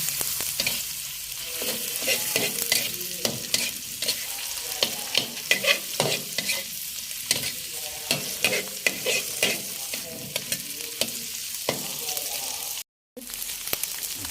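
Cauliflower and egg stir-fried in a pan, a spatula clattering and scraping rhythmically over continuous loud sizzling, with a brief dropout near the end.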